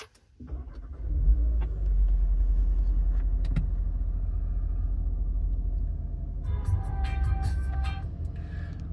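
Audi S3 Sportback Black Edition engine firing up on keyless push-button start, a steady loud low rumble settling into idle with some higher clicks and tones near the end.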